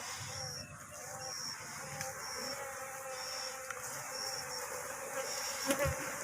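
Bees being moved into a hive without frames, a continuous close swarm buzz with overlapping insect drones, steady and moderately loud throughout.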